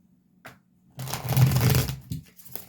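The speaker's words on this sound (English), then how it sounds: "Keep shuffling." Tarot cards shuffled close by: a short riffle, then a longer dense flutter of cards lasting about a second, with a few softer taps after.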